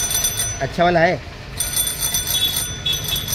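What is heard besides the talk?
bicycle bell ringing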